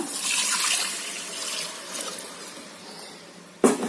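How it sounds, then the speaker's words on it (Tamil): Water poured into a pot of coconut milk biryani with sautéed ginger and garlic, a continuous splashing stream that tapers off, then a sharp clunk at the end. "பாருங்கள் தண்ணி ஊற்றுறங்க"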